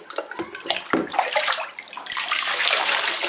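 Close-up water splashing and sloshing in a tub, with irregular bursts of movement settling into a steadier wash of water.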